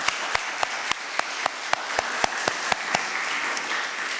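A church congregation at a Sunday morning service claps together, steady broadband applause punctuated by regular sharp claps in an even rhythm, loud and close.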